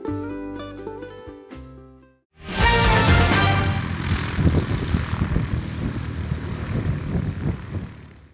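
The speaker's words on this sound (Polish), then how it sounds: "Po raz pierwszy lecimy samolotem elektrycznym w Polsce." Following a short musical intro, an electric airplane flying in Silesia, Poland, comes in loudly and stays close. It makes a sustained, rough propeller and motor roar that holds steady to the end.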